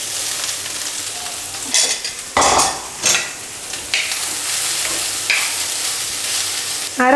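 A lentil mixture goes into hot oil with popped mustard seeds and curry leaves, setting off a loud, close sizzle with scraping stirs and several sharp bursts of spattering, no voices.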